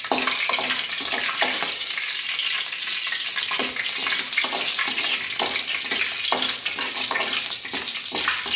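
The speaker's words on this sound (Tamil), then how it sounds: "நல்லா கடுகு வந்து வெடிக்கணுங்க" Mustard seeds and urad dal spluttering in hot oil, a loud, dense crackle of sizzling with rapid popping that runs continuously from start to finish without any talking.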